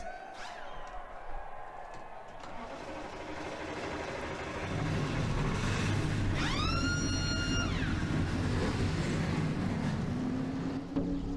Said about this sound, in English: Let's go down the trackside to fire these cars up for the Sony 300. Drivers, start your engines!